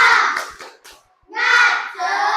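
A school class claps a rhythmic spirited cheer, bursts of many hands clapping together with children's voices chanting along, a short pause in the middle before a loud second burst.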